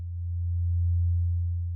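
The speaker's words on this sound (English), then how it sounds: "Now, a pure sine wave is like this" A pure sine wave from a Eurorack modular synthesizer holds as one steady, low, hollow tone, unchanging and alone for under two seconds.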